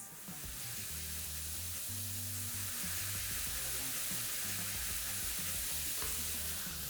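Pork fries in a hot pan with garlic, ginger and star anise, giving a steady close sizzle with stirring scrapes and clatters throughout.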